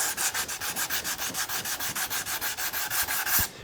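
Steady back-and-forth strokes of hand sanding on the sunburst finish of a Squier Stratocaster guitar body, about twenty even rhythmic rasping passes, close and loud, with no talking.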